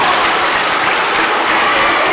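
A debate audience claps loudly for a student debater at a UK schools debating event, dense steady applause filling the whole moment with a hint of crowd noise.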